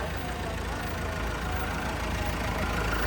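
A push-started tractor engine idles with a steady, dense rumble, continuous and even throughout at close range.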